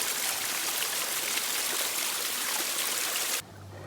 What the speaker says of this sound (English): the running water is the cleaner of the water because of the natural filter system in the river as it passes over things